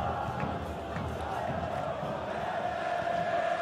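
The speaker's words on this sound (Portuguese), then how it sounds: "É a torcida do Fluminense, o tricolor das Laranjeiras." Fluminense supporters in FIFA 23 fill a stadium with a steady, distant roar of chanting and cheering, a continuous dense crowd wash with no distinct peaks.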